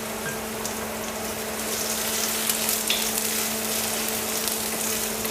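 Garlic and ginger fry in hot oil in a pan, a steady, dense sizzle that holds constant and loud throughout, close up with no voices.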